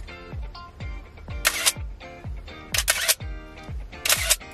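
Nikon F3 film camera fires its shutter at a slow speed in aperture-priority auto exposure at f/5.6: a steady run of sharp mechanical clicks, broken by a few louder bright clattering bursts, close and clear with no talking.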